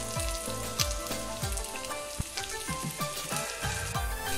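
Oil poured onto a lit piece of charcoal set in the middle of a dish of chicken malai tikka, giving a steady crackling sizzle with scattered pops and sputters, close by and with no voices.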